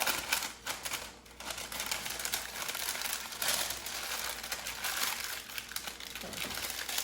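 Parchment or wax paper crinkles and rustles steadily as burger patties are wrapped one by one during meal prep, close and fairly loud, with no talking.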